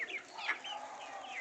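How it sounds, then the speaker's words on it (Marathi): Satpuda native chicks cluck softly and repeatedly while pecking at chopped green fodder and vegetable cuttings, with short, close, overlapping calls over a quiet background. "आपले पक्षी हे हिरवा चारा खाण्यात कसे व्यस्त आहेत"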